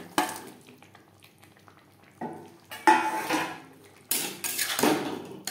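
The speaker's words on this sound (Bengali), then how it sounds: "মশলার সাথে পটল বেশ ভালো করে মিক্সড করে দেব" A spoon scrapes and clanks against a pan while fried pointed gourd is stirred into a yogurt and spice mixture, in a few separate bursts of clatter with quiet gaps between them.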